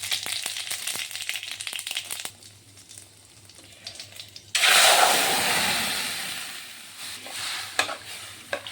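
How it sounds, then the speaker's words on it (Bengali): Cumin seeds and ginger dropped into hot oil, with a sudden loud sizzle bursting up and slowly fading, after some scraping and clinking in the pan, close and without talk. "একটু তেল দিয়ে দেব, আর ফোড়নে একটু জিরে দিয়ে দিচ্ছি।"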